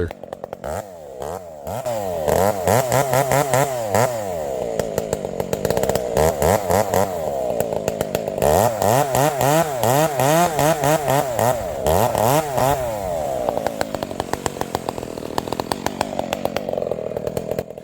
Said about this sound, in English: I want you guys to really listen to this saw in this video, just the way it runs.